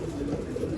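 A pigeon coos softly and briefly, a low murmuring call close by, at a pigeon seller's shop.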